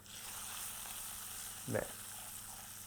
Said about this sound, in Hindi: सूजी की भुनाई हम पहले कर रहे हैं